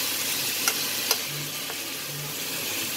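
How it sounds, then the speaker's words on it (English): Potato, egg and peas curry being stirred in a pan gives a soft, steady sizzle with a couple of brief scraping clicks of the spoon, close and quiet. "Give it a stir."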